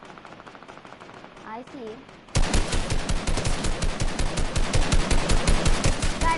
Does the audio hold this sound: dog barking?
no